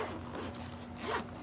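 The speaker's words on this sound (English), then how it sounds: "Double zipper." A double zipper is drawn along a hard shell headphone case for SoundMAGIC HP1000 headphones, a close, raspy continuous slide with two distinct louder strokes, heard alone without speech.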